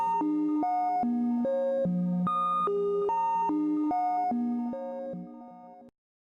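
A Corsynth C103 MKII synthesizer module runs as a pattern generator clocked by its LFO, stepping through a loud, evenly paced sequence of bright tonal notes at varying pitches that ends abruptly, with no voices.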